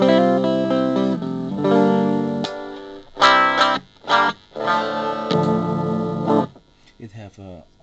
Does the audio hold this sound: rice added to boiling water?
no